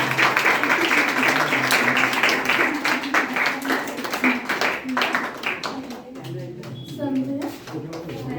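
An audience claps through a certificate and prize distribution ceremony for a skill development program, with dense applause mixed with voices and a few louder sharp claps, easing off toward the end.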